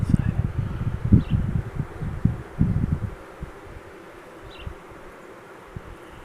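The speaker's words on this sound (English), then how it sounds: "This is one busy hive." Honeybees in a busy hive give off a low, dense buzzing hum, strongest at first and then thinning to a fainter murmur with a few soft knocks.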